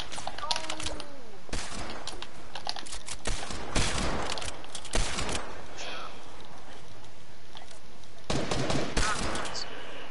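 Rapid SMG bursts ring out in a squads shooter video game, repeated staccato volleys spread through the moment, some loud and near, others fainter, with gaps between them.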